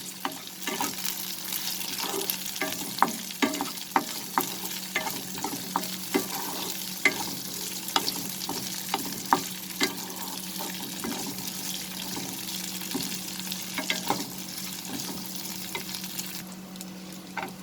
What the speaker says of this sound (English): I'll first fry these dry fruits just little bit.